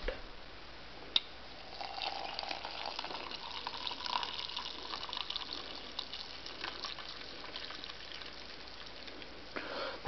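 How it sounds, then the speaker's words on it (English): Hot chocolate is poured from a pan into a cup, a steady close liquid stream and splash running for several seconds with faint dripping, no talking. "Time to pour this into my cup."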